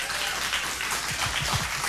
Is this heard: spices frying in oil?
no